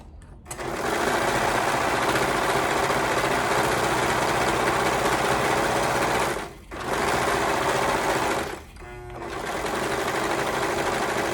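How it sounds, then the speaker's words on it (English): Sewing machine stitching a half-inch seam on a garment sleeve, a steady close whirring hum that runs alone for several seconds, pauses briefly twice, then resumes. "you can go ahead and stitch that with a 1/2 inch seam allowance."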